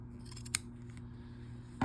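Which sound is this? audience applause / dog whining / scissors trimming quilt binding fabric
scissors trimming quilt binding fabric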